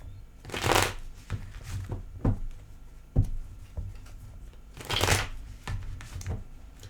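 Tarot cards are shuffled in several quiet riffling bursts, each a soft papery flutter with short pauses between, heard up close with no talk.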